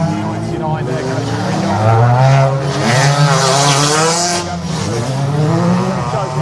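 Ford Fiesta race cars in the BRSCC Fiesta Junior Championship pull away from the grid at the race start, with engines revving and rising in pitch together while a commentator talks over them.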